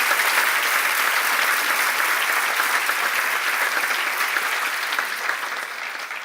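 An audience applauds as one dense, steady wash of clapping that holds strong throughout and eases off slightly toward the end.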